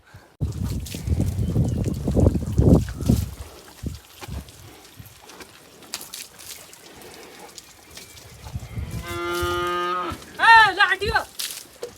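A buffalo calf moos twice near the end, a drawn-out low call, after a stretch of rustling and shuffling noises.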